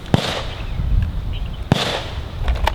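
Two sharp, loud reports about 1.5 seconds apart from a handgun fired during firearms instructor training on a range, each a crisp crack with a brief tail over steady outdoor background noise.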